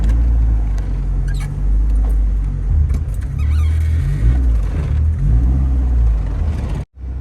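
A Honda Civic with a D16Z6 engine drives along the road, its steady low engine rumble and road noise loud and close from inside, ending in a brief dropout.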